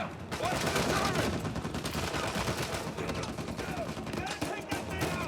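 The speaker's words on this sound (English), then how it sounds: "Sam! Watch the turret!" Turret gunfire in the video game Uncharted 4: rapid, continuous automatic shots rattle on without pause at moderate loudness, with voices shouting over the barrage.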